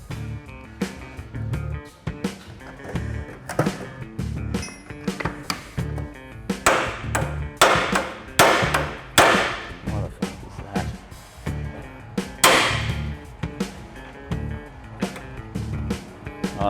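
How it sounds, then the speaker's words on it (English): Sharp hammer taps on a CV axle nut during a broken CV joint change on a Y62, striking in irregular bursts, some loud and close, with clanks in a workshop. "Wind the nut back off a little bit and give it a bit of a tap."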